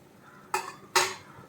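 Lid of a cooking pot of simmering beetroot lifted in a home kitchen, two short metallic clanks about half a second apart, close and clear against a quiet background.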